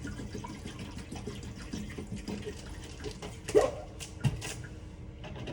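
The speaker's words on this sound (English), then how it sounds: "Grab distilled water and we fill the ultrasonic cleaner, making sure to clamp it so it doesn't go anywhere." Distilled water pours into an ultrasonic cleaner during veterinary instrument cleaning, a soft, steady trickle with a couple of brief clunks partway through.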